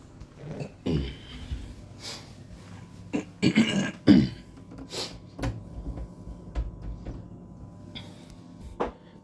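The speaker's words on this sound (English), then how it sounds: "I had to clear my throat" A man clears his throat with a few rough, throaty bursts, some coughing and snorting breaths, close and fairly quiet, with no talking.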